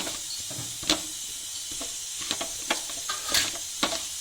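A masala mixture with coriander powder is stirred in a pan for a tapioca and pork-intestine fry, giving soft intermittent scrapes and clicks over a faint steady hiss, fairly quiet and with no talking.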